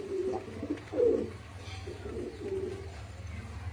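A pair of Damascene pigeons coo up close. Several soft, low, throaty coos come in quick succession over a low background hum.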